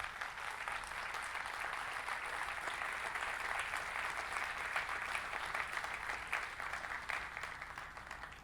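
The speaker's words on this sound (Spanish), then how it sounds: "Denle un fuerte aplauso a Dios." Sustained applause from a church congregation after a sermon line, a steady wash of clapping at moderate level that holds evenly for the whole stretch, with no talk over it.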